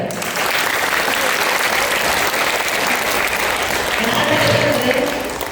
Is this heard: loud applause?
yes